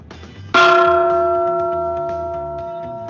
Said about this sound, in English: I'm going to take a stick and I'm going to hit each of the gongs in turn